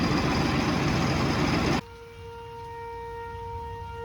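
Tornado warning sirens hold steady tones in the distance, starting after a burst of loud, broad rumbling noise that cuts off abruptly. No one speaks.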